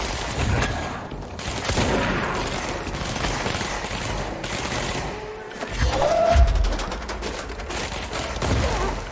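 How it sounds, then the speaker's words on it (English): Gunfire and explosions fill the video game Control: dense bursts of shots and booming blasts rumble continuously and loudly, with a sharp whistling tone near the middle. "Explosion!"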